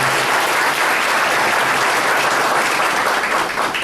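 A large audience at an OAB Porto Seguro lawyers' event applauds steadily for about four seconds, a dense, even wash of clapping with no pauses.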